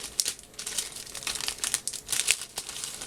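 A replacement Dell D520 laptop keyboard with a Spanish layout is handled close by, giving bursts of crisp plastic crinkling and rustling in an irregular rhythm, with no voices.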